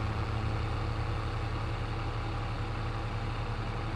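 A tractor engine idles in Farming Simulator 22, a steady low rumble with a constant droning hum that holds evenly throughout without change.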